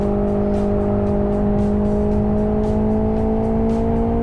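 In the racing sim Live for Speed, a race car holds full throttle, its engine note a sustained, loud harmonic whine climbing gradually in pitch over a few seconds, with no voices.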